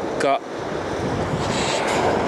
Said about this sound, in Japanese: やっぱりね台風の影響なんでしょうねちょっとね風が強いです